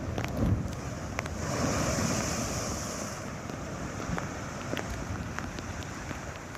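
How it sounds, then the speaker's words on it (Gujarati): Rough monsoon sea off the Alang coast in Gujarat, with waves over ten feet high, roars as a steady wash of crashing surf mixed with buffeting wind noise across the whole stretch. "દરિયામાં 10 ફૂટથી વધુ ઊંચા મોજા ઉછળતા જોવા મળ્યા"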